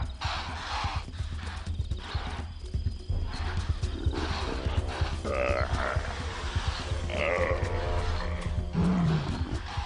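Lions in the African wild roar and growl amid the shuffling of animals moving about, several low rumbling calls rising over a busy, moderately loud background.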